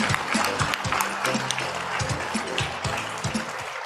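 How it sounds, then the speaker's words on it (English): Applause from the audience at the closing plenary of an air quality conference in the Philippines, with close, crisp individual claps standing out over a fuller crowd patter that tapers off at the end. "A round of applause for all of you."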